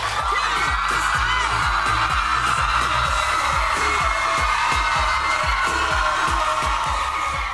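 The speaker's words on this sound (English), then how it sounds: "Give a big round of applause for" A studio audience on a morning TV show screams and cheers for BTS, a dense, continuous roar of crowd noise with a steady rhythmic thumping beneath it.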